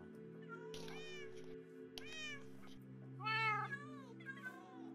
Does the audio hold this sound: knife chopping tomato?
no